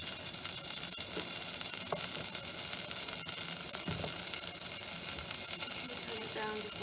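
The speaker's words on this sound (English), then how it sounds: "we're just going to let the butter melt" Butter melting in a pot for mac and cheese gives a steady soft sizzle and crackle throughout, close and continuous at moderate level.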